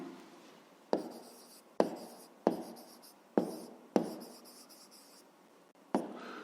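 A pen or chalk writes out a fifth-grade maths exercise in sharp, separate strokes, each a quick tap followed by a scratchy drag, close and isolated with pauses between.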